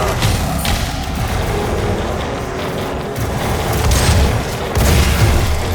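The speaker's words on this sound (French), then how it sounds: "Y'a rien de mieux que le fusil à pompe" Pump shotgun blasts from the video game Doom on Mars, heavy booming shots with mechanical clacks over a continuous loud game soundscape.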